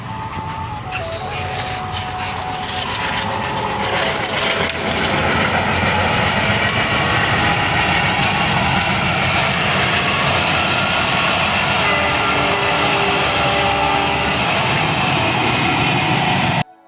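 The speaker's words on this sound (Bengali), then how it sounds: "এখন আমার বাড়ির সামনে দিয়ে দেখো ট্রেন যাবে" A train roars past close by, loud and sustained, with rhythmic clattering wheels and a deep rumble that holds steady before cutting off abruptly.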